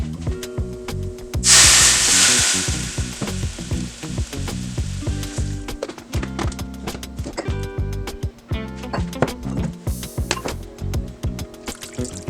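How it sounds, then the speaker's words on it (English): Red wine poured into a hot pan just emptied of browned mushrooms and onions, hitting the metal with a loud burst of sizzling that settles into steady frying and bubbling alongside clinks of a utensil. "and we're going to add the wine."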